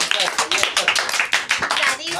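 A classroom of seventh- and eighth-grade children claps in quick, uneven bursts, close and fairly loud, with voices talking over the clapping.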